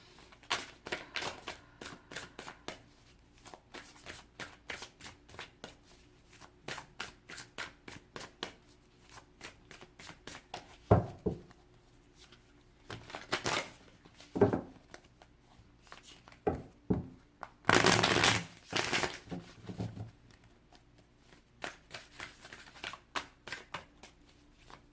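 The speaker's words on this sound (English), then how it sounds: "as I was shuffling the cards" Tarot cards are shuffled by hand, with soft repeated slaps and taps broken by a few louder riffling bursts, all close up and with no voices.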